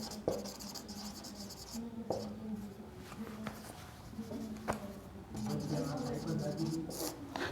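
A marker writes on a board in a classroom lesson, producing scratchy strokes with short squeaks and taps between them, heard close over a quiet room.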